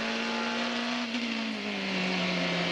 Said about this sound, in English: he rockets around this Adelaide circuit in the dark for the final couple of times